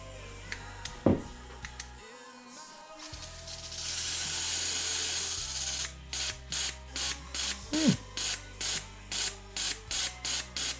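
A BMW K1200RS fuel injector on a test bench: a mechanical clicking and a hissing spray, then a rapid, evenly spaced series of short spray pulses near by.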